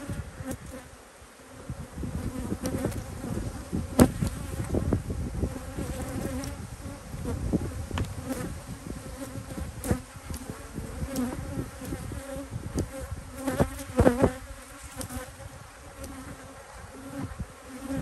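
A close, steady drone of honey bees hums around an apiary hive, swelling and easing slightly with scattered knocks from frames being handled.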